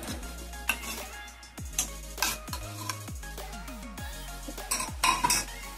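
Spinach mixture being stirred with salt and curd in a bowl, a spoon scraping and clinking against the sides in repeated strokes, close and clear with no talk.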